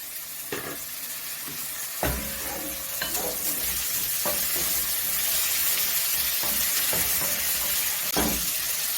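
Meat frying in a pan with onions for an arrowroot stew, a steady close sizzle with occasional stirring scrapes and clinks throughout.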